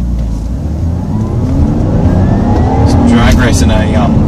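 Lexus IS200 accelerating hard while drag racing, its engine note rising and swelling louder over a few seconds with a rising whine, a voice talking over it.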